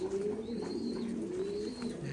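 Thai Titan pigeons on a farm give low, repeated throaty coos, several overlapping calls rising and falling nearby against a soft background hum.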